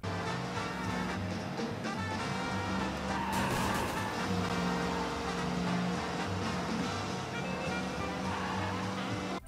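A car engine roars steadily in the video game Mafia: Definitive Edition, with a tire skid partway through, a constant loud driving drone from start to finish.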